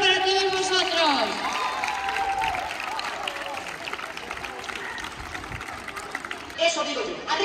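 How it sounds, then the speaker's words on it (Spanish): An audience applauding the participants at the opening ceremony of a 2024 olympiad event, rapid clapping that rises after voices at the start, continues steadily, and then swells again near the end. "Un fuerte aplauso para todos vosotros"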